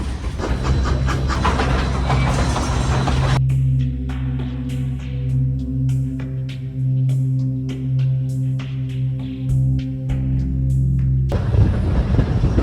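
A 100-year-old Cumbres & Toltec steam train rolls along a bumpy stretch of track, its wheels beating a steady rhythmic clickety-clack up close, with a loud rumbling, rattling roar at the start and end.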